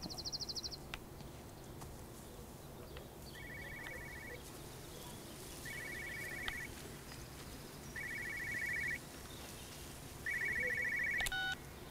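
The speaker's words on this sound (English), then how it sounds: "Another phone ringing." Telephone ringing in the video game Everybody's Gone to the Rapture: faint electronic ring bursts repeating at a steady interval over a quiet ambient background with soft insect-like chirping.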